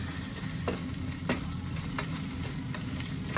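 Potatoes fry in a pan with onion and garlic, giving a steady, close sizzle broken by a few sharp scrapes and taps as the pan is stirred, with no talking.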